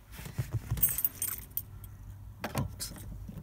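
Keys jangle and click as an ignition barrel is pushed into the steering lock of a 1999–2005 Vauxhall Zafira A, a few close metallic rattles in two short bursts with quiet gaps between them.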